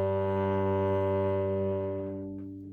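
One soft bowed cello note, played lightly, holds a smooth steady tone with fewer bright overtones, then gradually fades as the bow eases off.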